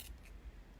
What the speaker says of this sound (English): when you cut along your fabric here, you'll actually cut it and you'll see that it's cutting